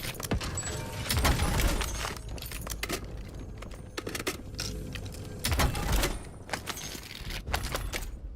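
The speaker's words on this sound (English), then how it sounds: "Switching mags." A weapon magazine being swapped in the video game Black Ops 7, with a run of clicks, metallic clacks and rattles in quick bursts over a steady game background, fairly close.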